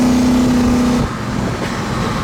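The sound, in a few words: 1970 Pontiac LeMans convertible driving down the road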